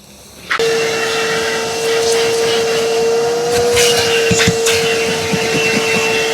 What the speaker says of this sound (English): let's get the hoover around here,